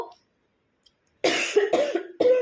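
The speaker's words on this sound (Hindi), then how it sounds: "सॉरी, बहुत खांसी आ गई एकदम से" After a brief silence, three harsh coughs sound close by in quick succession.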